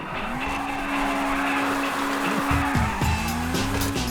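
A fast car in GTA V revs hard through rising gear pitches, then tires squeal and skid as the engine note drops and surges again, loud and close with no voices.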